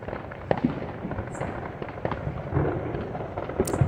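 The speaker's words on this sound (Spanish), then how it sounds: "mucha gente y niños jugando con los fuegos artificiales." Diwali fireworks in Vrindavan, heard from the road, crackle and pop repeatedly at varying distances, a dense, continuous barrage of sharp bangs with occasional whistling bursts overhead.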